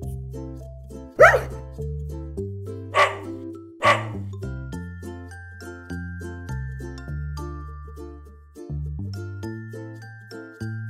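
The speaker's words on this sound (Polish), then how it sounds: "Pies." A dog barks a few sharp times over tonal background music, the barks standing out loud and clear against the melody.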